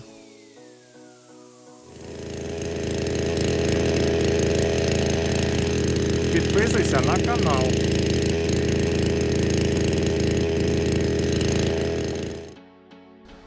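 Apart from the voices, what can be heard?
chainsaw cutting a tree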